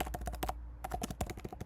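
Keys tapped quickly on a computer keyboard while entering text into a text box on a presentation slide, a close, steady burst of clicks broken by one short pause.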